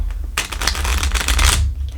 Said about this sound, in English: Let me do some shuffling here a little bit on camera.